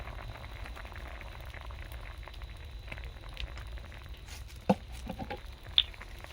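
Masoor dal (red lentils) with turmeric and salt simmers in a pot, giving off a quiet, continuous bubbling patter. A couple of sharper pops stand out near the end.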